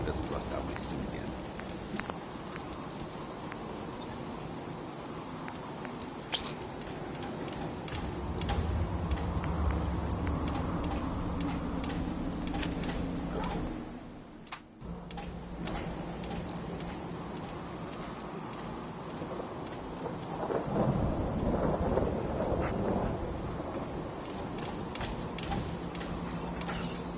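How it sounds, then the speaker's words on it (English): Steady rain patters on surfaces in a Fallout 4 game scene, with low thunder rumbling beneath it, a brief dip near the middle and a swell of heavier rain later; a voice speaks over it. "Damn rain. Doesn't rust out my suit again."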